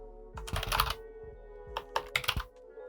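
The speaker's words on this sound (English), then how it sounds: "if I could type anything" Typing on a computer keyboard, a few close, quick clusters of key clicks separated by short pauses, quiet overall with a faint electronic hum in the background.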